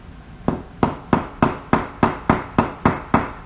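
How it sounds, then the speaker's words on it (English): A debarked piece of solid wood used as a small hammer strikes a surface ten times in a steady, evenly spaced rhythm, each knock sharp and close with a short decay. "Almost like use this as like a little hammer."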